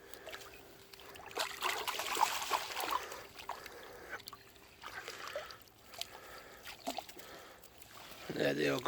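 Carp caught on a pole rig are tipped back into the water from a keepnet, giving soft splashes and trickling water in short bursts, close but quiet, with someone talking quietly outdoors.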